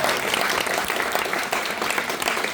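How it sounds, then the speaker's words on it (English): A wedding crowd claps for the bridesmaids, dense and continuous applause filling the room for a few seconds, close and lively with no clear pauses. "please, another round of applause for Anna,"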